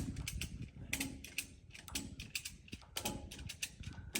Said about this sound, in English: ratchet strap.